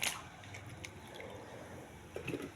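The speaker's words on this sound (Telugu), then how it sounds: "కొద్దిగా ఉప్పు నీటిలో కడుగుతున్నాను." Cut eggplant pieces being washed in a little salt water: faint, quiet trickling and dripping with a couple of soft splashes near the end.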